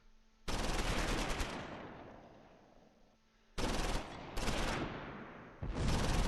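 Mortar blasts and bursts of machine-gun fire in the World War II strategy game Close Combat IV, set at Losheim; loud sustained volleys fade out, then return as heavy repeated bursts.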